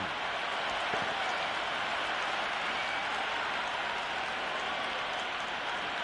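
Crowd at an Ashes Test match in the video game Cricket 26 after a catch, a steady, loud wash of cheering and applause that holds level throughout, with no distinct voices.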